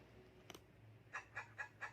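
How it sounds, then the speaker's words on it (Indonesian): Chicken clucking in an educational web game, a faint short call followed by four quick evenly spaced clucks near the end, heard alone without talk. "Ini suara ayam"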